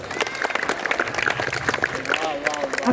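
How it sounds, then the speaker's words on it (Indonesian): Applause from an audience at a school festival, brisk clapping that rises and falls under a voice speaking over a loudspeaker. "Tepuk tangan lagi nih."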